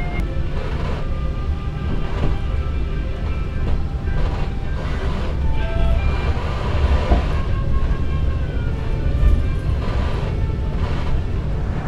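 Loud, continuous rumble and squeal of the Brawijaya train arriving at Semarang Tawang station, steady heavy rolling noise with metallic tones throughout.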